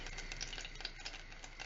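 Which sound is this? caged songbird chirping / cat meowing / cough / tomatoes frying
tomatoes frying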